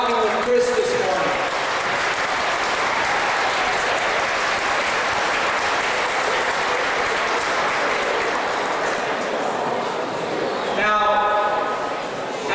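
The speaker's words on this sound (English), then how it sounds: "Let's give them a round of applause for walking with Chris this morning" An audience gives sustained applause for students who walked that morning, a loud, thick, even roar of many people clapping for about ten seconds, with brief speech at the start and end.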